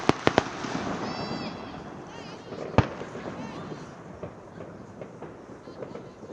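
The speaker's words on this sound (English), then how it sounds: "Sounds like artillery fire with the amount of explosions here of bonfire nights, fireworks" Bonfire night fireworks explode around Peel Park in a few sharp, sudden bangs early on and another later, set against a low outdoor rumble during a football match.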